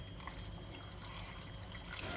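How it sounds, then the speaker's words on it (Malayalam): Water poured into a pot of ash gourd and tomato curry, a quiet, steady liquid pour and splash lasting about two seconds, heard alone without speech. "ഇനി ഇതിലേക്ക് നമുക്ക് ആവശ്യം വേണ്ട വെള്ളം ഒഴിക്കാം."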